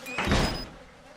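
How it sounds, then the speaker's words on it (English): A heavy door slams shut inside the Outlast horror game, one loud thudding impact with a brief ringing tail that fades quickly into quiet. "And the door slam's closed"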